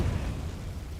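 A Confringo fire spell detonates in Hogwarts Legacy, a dense low rumbling burst that stays loud and booming for the whole second, with no talk over it.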